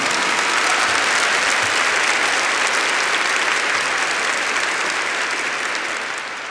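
A church congregation claps together for the Lord in a loud, sustained wave of applause that holds steady for several seconds before beginning to taper off at the end.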